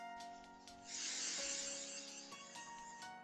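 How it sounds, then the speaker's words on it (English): Syoss instant hair color spray hisses from a can in one steady, close burst lasting about a second and a half, over a background of faint tonal music and no talk. "And we're just gonna spray."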